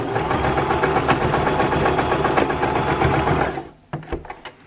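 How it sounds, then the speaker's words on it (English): A sewing machine runs a tight zigzag stitch along the rolled hems of a ripstop hammock, whirring steadily and close for several seconds before stopping, followed by a few soft handling knocks. "I'm just going to do a pretty tight zigzag stitch to be able to kind of close this off and lock it together"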